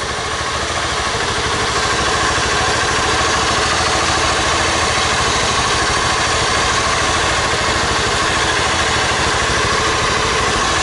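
A 2011 Honda Titan 150 motorcycle engine idling steadily at close range, a continuous low rumble with even, unchanging rhythm and no revving, while the fuel pump runs at low pressure.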